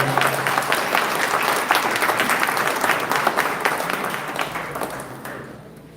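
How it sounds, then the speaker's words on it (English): A room at a village board meeting in Dolton breaks into applause for new village officers, a dense patter of many hands clapping that holds steady and then tapers off toward the end. "if we get a round of applause for our new officers in the village of Dolton"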